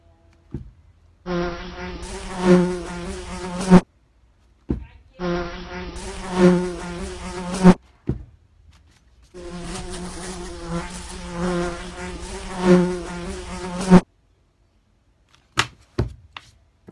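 Buzzing of houseflies comes in three loud sustained bursts separated by short pauses, followed by a couple of sharp clicks near the end.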